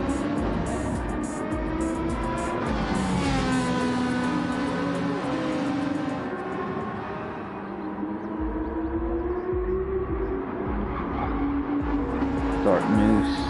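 Race cars lapping Suzuka circuit, a Subaru BRZ among them, with engines droning and shifting pitch continuously as cars run close together, loud and steady throughout with commentary voices over them.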